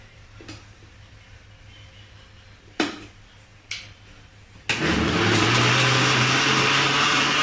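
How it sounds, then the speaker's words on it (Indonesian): A few clunks and knocks, then a blender starts up with a loud, constant whirring whine that continues to the end, blending white bread with milk. "Nah ini sekarang kita mulai blender ya guys,"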